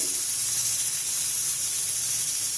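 Brinjal frying in masala oil gives a steady, even hiss and sizzle, close and continuous throughout with no voices.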